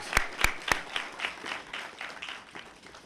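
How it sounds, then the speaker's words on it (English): A few sharp, close handclaps start off applause for award winners at a school graduation ceremony, spreading into a brief crowd clapping that fades out quickly. "Please, another round of applause for our award winners"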